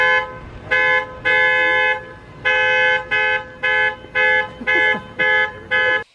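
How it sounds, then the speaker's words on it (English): A loud car alarm blares at 3:30 in the morning, a repeating tonal honk in bursts of roughly half a second to a second, about eight pulses with short gaps, close and dominant with no talk over it. "there was a car alarm going off at 3:30 in the morning"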